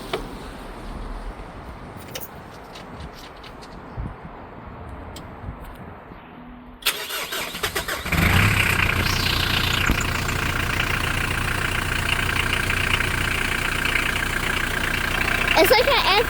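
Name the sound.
Mitsubishi L200 engine starting and idling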